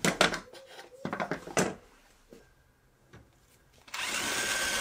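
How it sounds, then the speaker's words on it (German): A power drill with a step bit turns in reverse while boring a hole, giving several short whirring bursts and a pause before a louder steady run. "Und ich bohre wieder falsch rum, also links rum."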